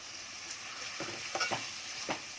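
Finely chopped onions cooking on a high gas flame for okra, a soft continuous sizzle with a few scraping stirs of a spatula against the pan.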